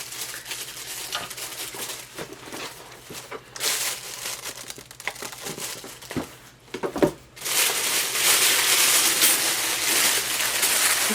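Paper packing material inside a subscription welcome box crinkles and rustles as it is pulled out by hand, close and intermittent, with handling bumps and a sustained burst of crumpling toward the end.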